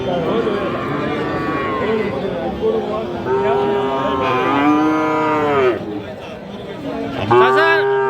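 Friesian and crossbred bulls and calves at a cattle market bellow in several long, drawn-out moos, loud and close, over a constant murmur of crowd chatter and talking voices.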